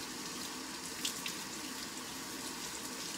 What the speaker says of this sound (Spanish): Tiras esta agua y las enjuagas aquí, que vaya cayendo el agua aquí, así las sigues enjuagando.